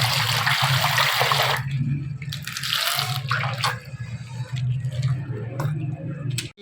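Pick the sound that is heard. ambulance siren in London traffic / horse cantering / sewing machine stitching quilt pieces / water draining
water draining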